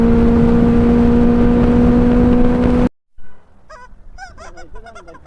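Auto-rickshaw style horn fitted to a Benelli TRK motorcycle, one loud, close, sustained buzzing honk that cuts off abruptly, followed by quieter chatter in the background.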